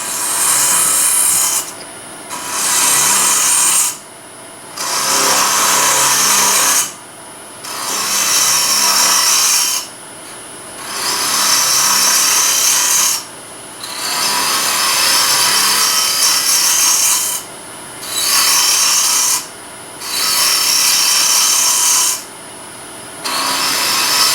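A wood lathe at about 2,000 RPM hollows out a small lidded ring box. The tool cuts in loud, rough, scraping bursts of a few seconds each, split by short pauses, with no talking.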